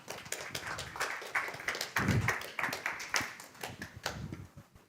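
Scattered audience clapping at a tech startup pitch night, uneven individual claps with a thin, sparse crowd texture over a few seconds.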